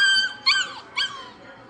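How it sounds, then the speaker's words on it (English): Dog training app sound played from a phone speaker: two short, bright, squeaky chirps with rising and falling tones, close and fairly loud over faint background hiss, no talking. "this is the sound that the actual app makes to get your dog's attention"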